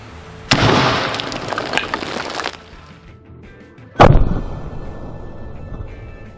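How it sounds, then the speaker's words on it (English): A 135 grain 9mm round fired into water jugs at close range, a loud sharp report with splashing spray, followed seconds later by a second hard bang as the bucket lid blows off. "I'm gonna put a 135 grain 9mm into the second bucket."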